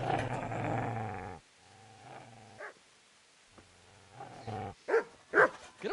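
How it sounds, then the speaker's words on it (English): A dog growls and snarls in the medieval game Kingdom Come Deliverance, starting with a long loud growl, then a pause and a burst of sharper snarls and yips. "Get away, you mutt!"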